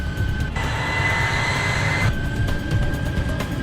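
Air France airliner rolling down runway 16 for takeoff, heard from inside as a steady roaring engine drone with a rising whine and rumble of the wheels, constant and fairly loud.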